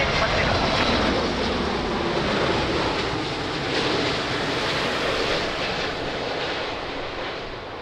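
A fixed-wing airliner lands on runway 02 at Lisbon Airport, its engines roaring loud and steady throughout with a broad rushing noise that eases slightly toward the end.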